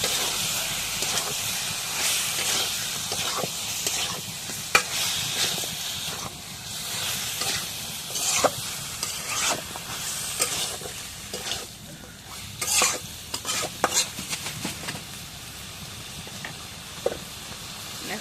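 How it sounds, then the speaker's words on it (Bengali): Meat is stirred into sizzling, frying masala in a pan, with steady close hissing and sizzle broken by repeated scraping and clattering stirring strokes, no talk. "এখন মশলাটা কষানো হয়েছে মাংসগুলো দিয়ে দিই"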